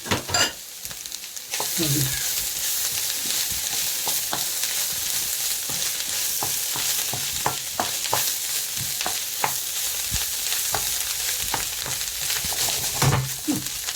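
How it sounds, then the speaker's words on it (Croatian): Chanterelle mushrooms and onion frying in a pan for veal goulash, a continuous close sizzle broken by scattered clicks and scrapes of stirring, with a louder clatter at the start and near the end. "pošto je luk skoro upržen, stavit ćemo lisičarke ove gljive"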